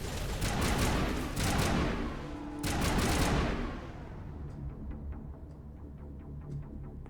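Dense automatic gunfire from the Mass Effect video game, two loud sustained bursts of rapid shots in the first three and a half seconds, then trailing echoes and scattered quieter distant shots.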